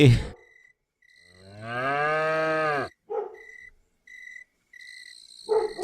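A cow lets out a long, loud moo, preceded and followed by brief bellows, with insects chirping steadily in the quiet background.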